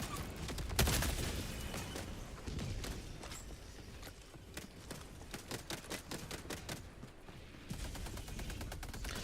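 Gatling sentry turret in a game fires in bursts of rapid, crackling shots that pulse through a busy battle mix, loud and close, with a steadier rattling stretch near the end.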